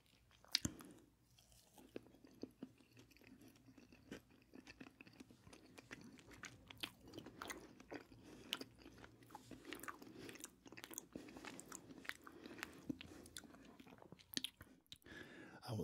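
Close, quiet chewing and biting of a Little Debbie snack cake with small candies on top, soft wet mouth sounds and crisp bites repeating steadily for the whole stretch.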